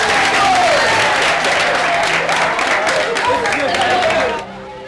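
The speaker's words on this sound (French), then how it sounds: "On est ensemble et puis on s'applaudit." An audience at a Côte d'Ivoire health gathering bursts into loud, close applause, dense clapping mixed with cheers and crowd voices, which fades out abruptly near the end.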